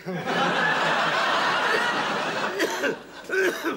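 Several rough coughs and throat-clearing noises, close and fairly loud, with a brief chuckling quality toward the end.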